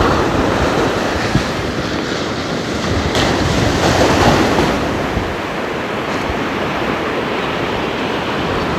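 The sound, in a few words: ocean waves on a beach at sunrise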